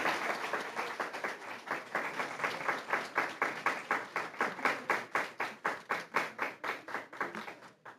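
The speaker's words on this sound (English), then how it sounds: "if we can give a round of applause for our state and national winners" A crowd at a school board meeting claps steadily for student state and national winners, dense, rapid hand claps that grow more spaced and rhythmic toward the end, with no voices over it.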